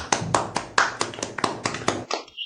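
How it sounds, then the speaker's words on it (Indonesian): Sparse hand clapping welcoming Professor San, about ten distinct claps in a steady rhythm from a small audience, close and fairly loud, stopping abruptly near the end. "Mari kita berikan tepuk tangan"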